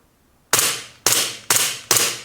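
A Sig Air semi-automatic airgun pistol fires with no BBs loaded, its slide locking back: four sharp, loud, close pops in quick succession, each with a brief hissing tail, with no talking.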